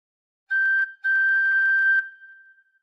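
A tin whistle sounds a short phrase from the Star Spangled Banner: a brief note, a pause, then a longer sustained tone that fades out, clear and solo with no talk.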